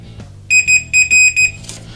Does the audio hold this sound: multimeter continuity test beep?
yes